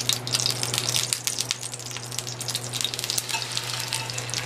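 Mava pancake sizzling steadily in a pan just after being flipped, a continuous close crackle with scattered sharp spits and a low hum underneath, no talking.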